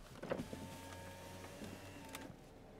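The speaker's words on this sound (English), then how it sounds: "Now we're gonna try to open the roof." The electric power roof of a 2009 Saab 9-3 convertible opens with a close, steady motor whine and hum, marked by faint mechanical clicks at the start and a latch clunk near the end.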